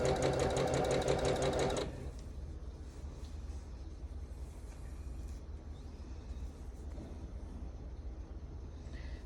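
A sewing machine stitches a seam down the middle of quilt blocks, a fast, steady, close whirring run for about two seconds before stopping, leaving a low background hum.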